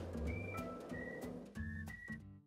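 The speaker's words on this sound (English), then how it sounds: "I could do like some tunes with whistling" Someone whistles a tune of short, clear notes spaced about half a second apart, over a soft low accompaniment that pulses in time with the whistling.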